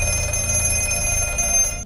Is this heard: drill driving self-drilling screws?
no